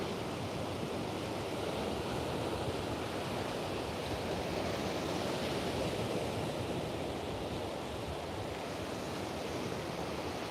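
Strong wind roars across a Melbourne beach where kitesurfers ride, blending with the steady wash of surf into a constant broadband rush that stays level throughout with no voices.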